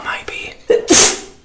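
A person lets out a sharp, loud sneeze during a chocolate fondue mukbang, a sudden breathy burst near the end, right after brief quiet talk and soft mouth sounds close by.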